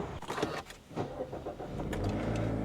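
Steady engine hum from inside a car on the way to town in Isaan, Thailand, with low rumble and some light clicks and shuffling near the cabin, ending in a fuller, louder drone.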